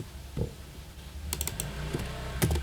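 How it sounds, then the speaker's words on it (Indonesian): Fast typing on a computer keyboard, a close run of light clicks that picks up into denser bursts toward the end, with no talking. "langsung saja kita ketik"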